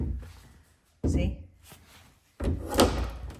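A pantry door swings and bumps against a door stopper, giving two dull knocks with a short rattle after each, close by, while someone talks in the background.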